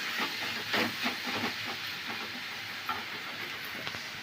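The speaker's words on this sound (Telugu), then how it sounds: "ఇప్పుడు స్టవ్ సిమ్లో పెట్టుకొని మనం దీంట్లోకి తోటకూర వేసుకున్నాము" Amaranth leaves cook in a pan on low heat with a steady close sizzle and hiss, broken by soft stirring scrapes, and no talk.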